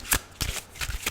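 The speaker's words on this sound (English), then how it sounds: "And I'm shuffling and waiting for 3 cards to pop out or more if that's necessary for the story." Psychic tarot oracle cards being shuffled by hand, a run of soft papery riffles and slaps in quick irregular bursts, close and clear with no talking.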